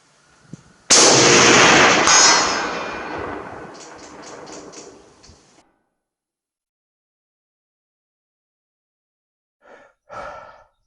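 One loud, close rifle shot from a Russian M91/30 PU sniper rifle, a sharp crack that rolls off into a long fading echo, followed by quiet and a couple of faint breathy sounds near the end.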